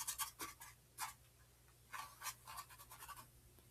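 Crumpled paper dipped in green paint is dabbed against a painting surface around painted trees, giving soft, close scratchy pats in irregular clusters of quick taps with short pauses between them.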